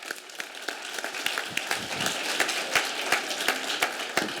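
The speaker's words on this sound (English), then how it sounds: "let's give David a big round of applause" A modest round of applause for David at a talk on lean productivity, with individual claps standing out in an uneven rhythm over a low room hum.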